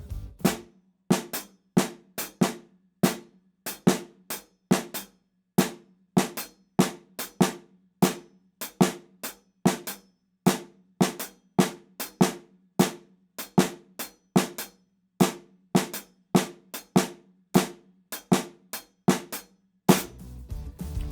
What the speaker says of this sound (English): 3 in the right hand on the hi-hat over 4 in the left hand on the snare drum.